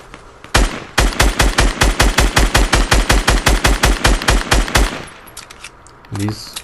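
Rapid automatic gunfire in the video game Fortnite: a long burst of roughly twenty evenly spaced loud shots lasting about four seconds, then quiet with a short low thump near the end.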